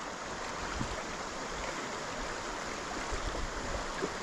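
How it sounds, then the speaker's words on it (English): A fast-running floodwater stream in Queensland: a steady, dense rushing wash that stays even throughout, with no voices. "Jeez, this water's running quick, hey."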